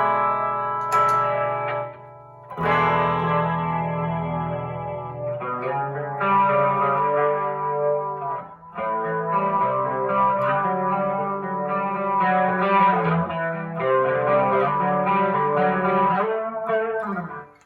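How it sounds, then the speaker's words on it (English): A clean electric guitar plays a cheesy 80s metal lick through a DOD FX65 chorus pedal, notes wavering slightly with a lush, doubled tone and no talking. "From there, we go up to the FX65 DoD chorus."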